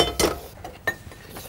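A frying pan being readied with butter and oil gives a few light metallic clinks and knocks, two sharper ones standing out, close by and fairly quiet, with no voices.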